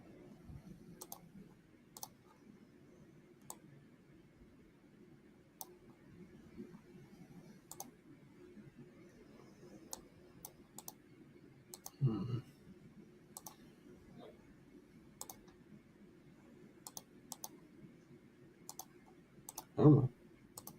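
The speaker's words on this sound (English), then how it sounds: "I'm really just clicking around and seeing what's over here." A computer mouse clicks in sparse, irregular taps over a low steady hum, with a louder cluster of clicks near the end.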